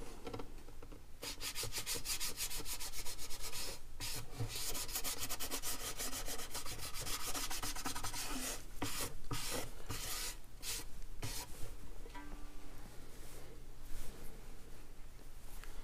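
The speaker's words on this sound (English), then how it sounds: "And then, when the moisture level is almost gone, quickly rubbing the surface." A polishing cloth rubs briskly over the varnished wooden surface of a fine violin during French polishing, a continuous dry scrubbing in rapid back-and-forth strokes with a few short pauses.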